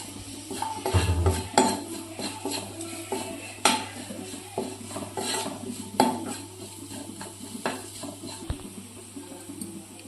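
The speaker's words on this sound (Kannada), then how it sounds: "ಈಗ ಇದನ್ನೆಲ್ಲ ಇನ್ನೊಂದು ಸ್ವಲ್ಪ ಚಲೋ ತಂಗೆ ಫ್ರೈ ಮಾಡ್ಕೊಂಡ್ರಿ" A utensil stirs and scrapes stuffed bread pakoda filling in a pan, with clinking metal strikes and steady scraping over a constant stove hum and a faint sizzle, with no talking.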